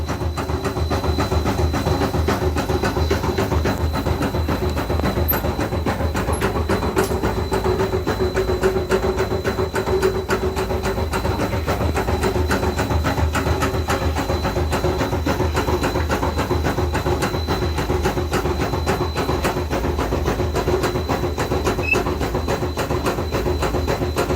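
A laboratory funnel shaker machine runs at low speed, producing a steady, loud mechanical rumble with rapid regular rattling and a faint high whine that continues unchanged.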